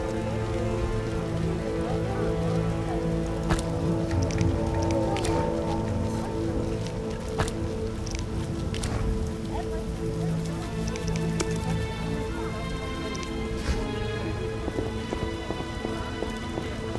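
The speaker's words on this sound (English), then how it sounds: "It's raining." Rain falling in The Witcher video game, a steady close patter of drops on surfaces lasting throughout with faint background tones and no speech.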